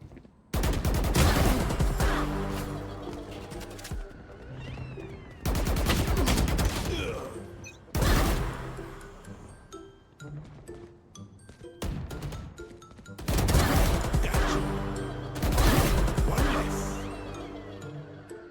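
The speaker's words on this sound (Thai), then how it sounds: "เสียงตอนยิงดังมากเลย" Loud bursts of rapid gunfire in Valorant come in several volleys separated by brief lulls, with impacts and crashes mixed in.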